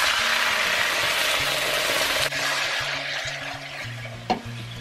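Apple cider vinegar hits a hot cooking pan, setting off a loud steady sizzle and hiss, with faint scraping of a utensil and a short clatter near the end.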